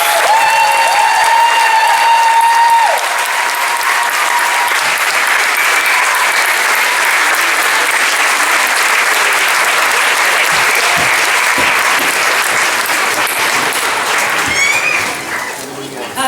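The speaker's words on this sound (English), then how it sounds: "Please give a round of applause for our Bachelors of Arts graduates." A graduation commencement audience applauds Bachelor of Arts graduates with loud, sustained clapping that fills the whole stretch, briefly accompanied at the start by a tonal musical note, then tapering slightly near the end.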